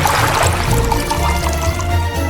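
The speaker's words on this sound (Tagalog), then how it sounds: "Punuin ng tubig." Water pours steadily into a small toy pool for a doll house, a continuous splashing fill with no pauses, close and fairly loud.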